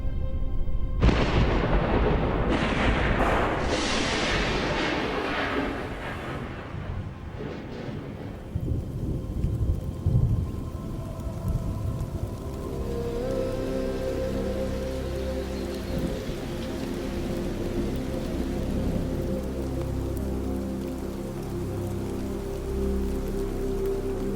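Heavy rain pours steadily in the bush at Mala Mala during the rainy season, with a loud roll of thunder early on that fades, leaving a dense, constant drumming of rain on surfaces.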